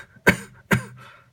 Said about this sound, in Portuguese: A tosse é isso aqui, ó.